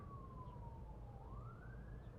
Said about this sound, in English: there's some sirens if you guys miss LA